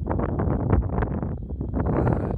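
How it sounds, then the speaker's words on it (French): Gusting wind buffeting the microphone outdoors during magnet fishing by the water, low rumbling bursts that rise and fall unevenly throughout, loud and close with no talk. "ce vent, il fait chier ce vent."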